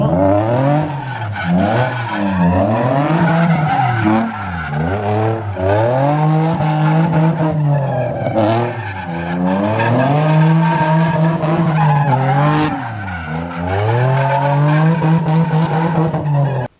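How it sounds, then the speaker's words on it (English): A car drifting in a parking lot, tires squealing in long wavering screeches over a revving engine that repeatedly rises and falls as it slides through several passes, loud and close with no talking. "that's going to be a wrap for the parking lot drifting"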